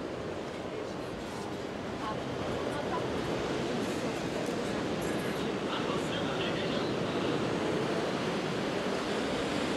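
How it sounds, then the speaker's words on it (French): Sea waves crash and wash continuously along the rocky coast at Biarritz, a loud, dense roar of surf with wind buffeting the microphone throughout. "C'est incroyable ces vagues."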